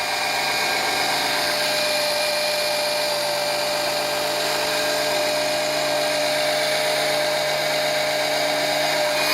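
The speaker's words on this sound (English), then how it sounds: "Once the motor's primed, it'll start sucking up more, and you can see it running in there now." An electric pump motor drawing engine oil out during an oil change on a 2012 Jaguar XJ makes a steady, unbroken mechanical whine with a constant high hum, close by and with no talking over it.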